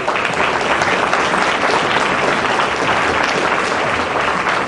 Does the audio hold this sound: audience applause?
yes